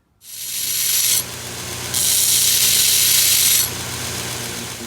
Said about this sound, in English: I'm going to grind the profile and clean it up a little bit